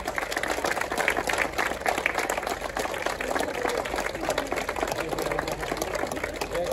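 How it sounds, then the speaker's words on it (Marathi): An audience claps at a felicitation program, a steady, dense wash of applause running throughout without pause. "आणि खूप जोरात आपण टाळ्या वाजवूया"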